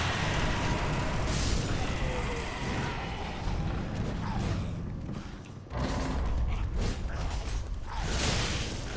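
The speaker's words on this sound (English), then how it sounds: "Open this door." A creaking door swinging open through a grinding mechanism in Dark Souls 3, a long loud groaning creak running throughout with a heavy shift partway through.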